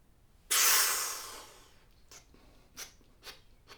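A single strong exhale rushes out during a musician's breathing exercise, loud and airy at first and then tapering away, followed by a few short, softer breaths.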